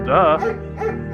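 A German Shepherd in the video game Firewatch gives a close, loud bark or yip, followed by softer whimpering tones, and a person speaks briefly over it.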